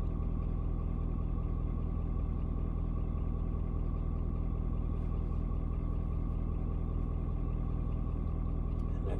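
A Ford Super Duty with the 6.7-liter diesel idles after a cold start at 56 degrees, a steady low rumble that holds evenly throughout with no talk over it.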